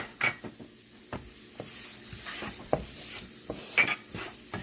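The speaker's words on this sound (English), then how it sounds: "I'm going to go ahead and add my onions." Onions go into a hot pan of well-browned roux for Southern shrimp and grits, giving a quiet sizzle with scattered clinks and scrapes of a utensil against the pan, spaced irregularly.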